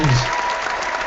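Google Hangouts clapping sound effect, a dense burst of synthetic applause playing at close range and holding steady for about a second.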